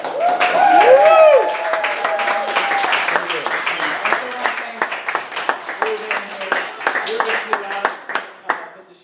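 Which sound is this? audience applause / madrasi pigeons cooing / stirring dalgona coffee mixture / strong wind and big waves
audience applause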